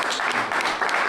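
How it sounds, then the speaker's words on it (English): A short burst of steady applause greets a lifetime achievement honoree at a mayoral proclamation ceremony, heard at moderate distance. "And I think that deserves another round of applause."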